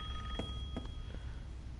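A telephone rings in Resident Evil Village, a steady electronic ring tone sustained throughout against a low rumbling background, with a few faint knocks mixed in.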